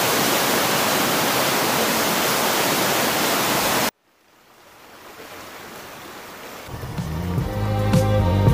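Water streaming down from rocks at a mountain viewpoint in the Picos de Europa, a loud steady broadband rush that cuts off abruptly, then returns fainter and builds again with some tonal sound entering near the end.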